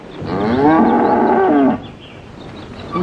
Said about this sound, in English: Won't you listen to that cow now?